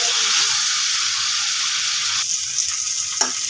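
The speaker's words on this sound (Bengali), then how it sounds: "আমি আলুগুলো খুব ভালোভাবে কষিয়ে নেব।" Potatoes stir-fried in a pan give off a bright, steady sizzle close by, with a spatula scraping and stirring through it.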